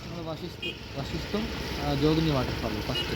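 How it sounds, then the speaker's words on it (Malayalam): A scooter engine in Manali sputters to life and settles into a low, steady idle close by, with people talking over the running motor. "അങ്ങനെ ഞങ്ങൾ 2 സ്കൂട്ടി എടുത്ത് ഇറങ്ങുകയാണ്."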